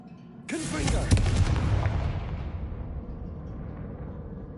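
A Confringo blasting spell in Hogwarts Legacy bursts with a loud booming explosion that rumbles and crackles, then slowly fades into a lingering low roar.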